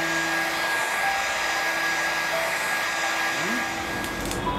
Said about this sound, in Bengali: একটু করে আমি একটু ড্রায়ার দিয়ে এটা শুকিয়ে নিই